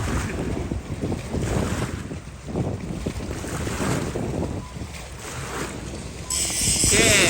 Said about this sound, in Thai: ดีเซลนะครับเนี่ยเรือดีเซลครับ